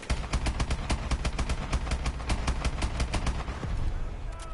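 Rapid M14 rifle gunfire in a video game, with a long run of sharp, evenly spaced shots over a rumbling background of battle noise and game sound.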